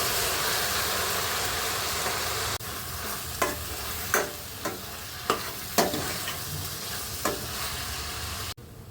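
Beans and tomato gongura paste stirred and frying in a pan, a steady sizzle broken by several sharp scraping stirs of a spoon against the pan, close and fairly loud.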